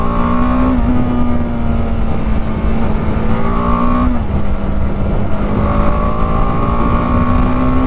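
BMW G310R motorcycle, 313cc liquid-cooled DOHC engine, pulling strongly under acceleration; a loud, close engine note climbs in pitch, dips at gear changes and climbs again three times through the run, with traffic noise around and no voices.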